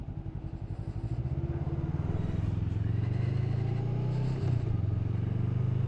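A Honda motorcycle ridden solo by a woman, its engine droning steadily and loudly close by, with a rising pitch as it pulls along and a faint rattle, no speech.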